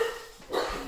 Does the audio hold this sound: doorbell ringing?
no